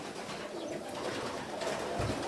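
Pigeons cooing softly nearby in a loft, low burbling calls repeating over a steady background hum.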